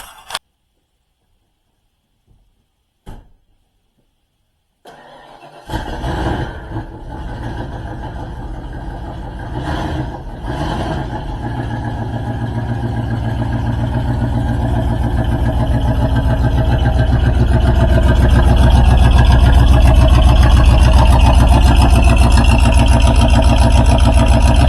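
A swapped V8 in a Ford Ranger, smoking slightly: a few sharp clicks and a brief crank, then the engine catches and settles into a loud, rough idle that grows steadily fuller and louder over many seconds, close up with no voices.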